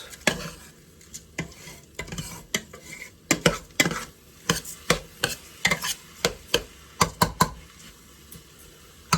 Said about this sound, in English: So what we want to do is fry the rice and mix in all the spices with the onions.